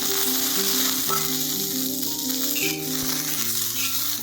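Garlic cloves and green chillies frying in a little oil for a spicy tomato chutney give a continuous bright crackling sizzle, close and loud, with faint stirring underneath.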